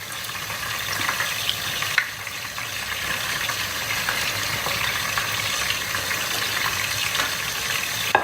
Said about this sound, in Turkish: Hemen sıcak yağ atıyoruz.